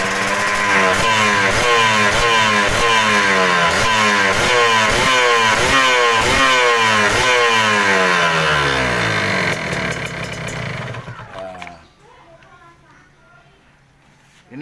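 A motorcycle engine with a faulty, stuck radiator fan starts and revs in repeated rhythmic bursts, loud and close, before winding down and cutting off near the end.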